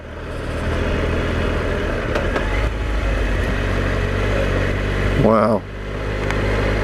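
A Triumph Explorer motorcycle rumbles at a steady, low pitch while riding a dirt trail, with wind noise and a brief spoken exclamation over the engine.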